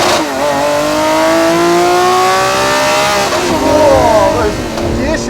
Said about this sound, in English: those gear shifts are so violent